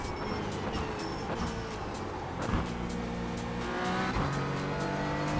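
Race cars in the iRacing sim at a rookie event roar continuously in a pack, engines droning and shifting pitch as they jostle for position, with a few tire squeals and no talking.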